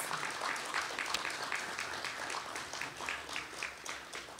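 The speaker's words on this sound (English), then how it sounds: "let us demonstrate a very warm welcome with a resounding applause" Audience applause at a CROSQ opening ceremony in Barbados, a soft, fairly distant wash of clapping that holds steady for several seconds.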